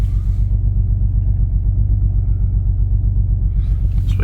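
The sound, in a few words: car engine running rough, possible misfire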